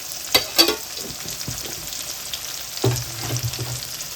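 Chillies and turmeric fry in a pan for kakarakaya fry, giving a low hiss of oil with scattered sharp pops and crackles and a louder burst of sizzling later as more goes in; no talking.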